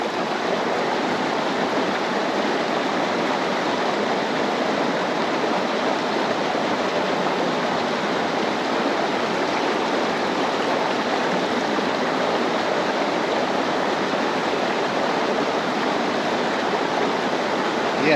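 A small clear creek flows steadily with a continuous broad rushing and babbling of water, close and loud, unchanging across the whole stretch with no voices.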